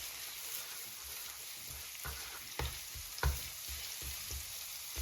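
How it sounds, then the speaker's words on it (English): Minced garlic sizzles steadily in hot olive oil, a soft crackling hiss with occasional louder pops and scrapes. "when the garlic starts sizzling, then cook it for about 30 seconds"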